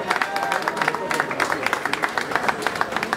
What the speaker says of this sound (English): A round of applause for our top 10 guests.